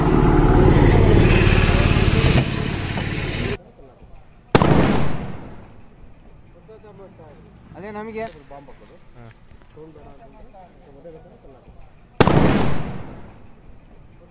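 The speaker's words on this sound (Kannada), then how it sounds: "ಗನ್ ಅಂದರೆ ಒಂದು ಸಣ್ಣ ಒಂದು ಟೈಗರ್ ಬಾಂಬ್ ಹಾಕೋದು," Loud, close blasts from a tiger bomb gun made to scare off monkeys and elephants. Three sharp cracks ring out, each with a short decaying tail, and someone talks between them.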